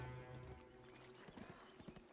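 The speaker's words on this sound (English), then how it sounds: "I ride upon a pale horse." Video game horse hooves clip-clop in a quick irregular patter under a sustained low tonal hum, with a faint whinny-like sound at the start. The sound is quiet overall.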